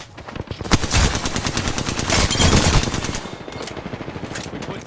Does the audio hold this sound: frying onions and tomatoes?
no